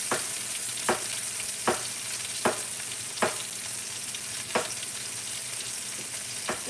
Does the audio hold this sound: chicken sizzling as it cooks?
yes